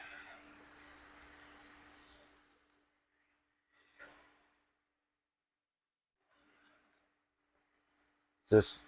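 Celery steaming in a hot pan, a soft hiss for about two seconds that fades away, followed by quiet with a faint brief sound midway and a sharp thump at the end.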